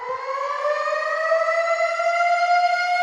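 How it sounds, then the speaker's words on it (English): A loud, steady civil-defense-style siren wails on one sustained tone that rises slowly in pitch and sounds alone and close. "We're going to cut the siren."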